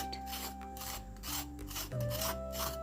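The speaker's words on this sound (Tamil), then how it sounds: "மேலே உள்ள தோலை நல்லா கொஞ்சம் சீவி பண்ணிக்கிடுவோம்" Skin being scraped off a snake gourd with a peeler in a kitchen, giving close, rhythmic rasping strokes over a faint steady hum, with no talking.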